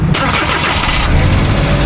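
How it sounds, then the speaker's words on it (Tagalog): Suzuki DA64V van engine cranking briefly and catching, then settling into a steady, loud mid-range idle close to the microphone, with no talking. "Ignition on, engine start."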